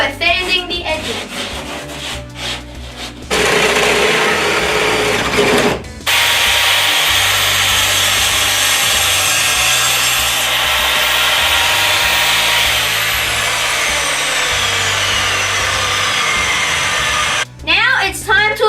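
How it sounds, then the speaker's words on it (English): A power sander grinds and rubs along plywood edges continuously for most of the time, loud and close, with short gaps at the start and end. "now we're sanding the edges."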